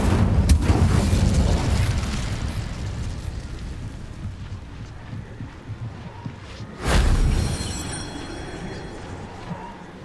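A fiery burst from the Incendio spell in Hogwarts Legacy, a loud whooshing blast at the start that decays into a rumble, followed by a second sharp flare later on.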